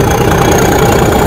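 The Ooty toy train's steam engine runs with a loud, dense, continuous rumble and hiss, close by and unbroken throughout.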